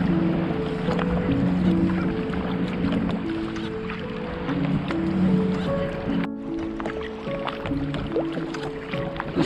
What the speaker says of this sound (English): Police rib out for a jolly. Give me lots of waves.